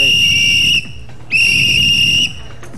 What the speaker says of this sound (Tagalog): Mas madidinig yung pito kaysa sa sisigaw ka.